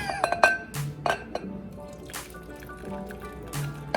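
Butter sauce for a seafood boil pours and drips into a glass bowl, with sharp glassy clinks and taps scattered throughout, close by.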